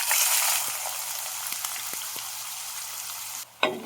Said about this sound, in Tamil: இந்த வெங்காயத்தை வந்து நல்லா கோல்டன் ப்ரௌன் வர அளவுக்கு நல்லா வதக்கி எடுத்துக்கணும்